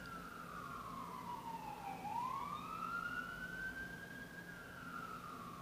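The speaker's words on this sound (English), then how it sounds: "God dang sirens! Shut up." A siren wails in long sweeping tones, dipping low then climbing back up, sustained and fairly loud over a steady background rumble.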